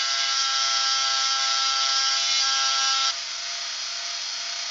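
Dremel rotary tool cutting into a threaded part, a loud continuous high whine that shifts to a slightly lower, lighter pitch partway through as the load changes.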